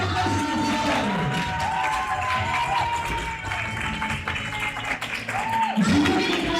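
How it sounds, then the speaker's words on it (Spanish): At a Patagonian padel tournament in Río Gallegos, a crowd applauds and cheers at moderate distance, with scattered shouts and tonal voices riding over the clapping. "¡Fuerte aplauso!"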